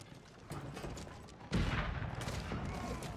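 Cannons fire in an Age of Empires IV ranked match on the Ancient Spires map: a heavy booming volley bursts out midway, with scattered battle clatter before and after.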